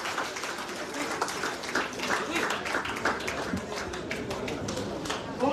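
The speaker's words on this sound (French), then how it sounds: "Madame Monique Laëli, on peut l'applaudir et puis attendre la suite" Audience applause at a tribute ceremony for a musician held by a town, steady dense clapping throughout with a few sharper claps standing out.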